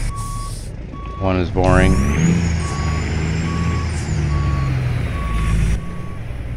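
Evenly spaced reversing beeps from a truck in American Truck Simulator, pulsing steadily over a low engine rumble and a hiss of air brakes, while someone talks over it.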